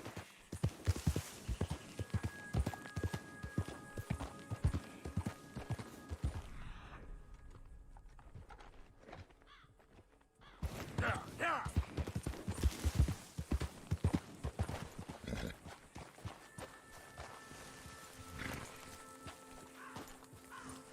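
Horse hooves clip-clop at a walking pace while riding in the video game Red Dead Redemption 2, a steady run of close, rhythmic hoofbeats that pauses briefly midway and then resumes.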